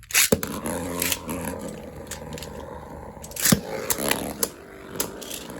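Beyblade spinning tops clatter in a battle stadium after a failed launch: sharp plastic clicks and knocks come over a whirring, grinding spin, with several distinct impacts scattered through.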